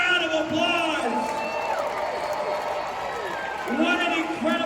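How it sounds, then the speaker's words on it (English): A large crowd at a baseball stadium's final game at The Diamond, steady and moderately loud, with applause blended into cheering, whoops and whistles throughout. "Can you give yourselves a round of applause?"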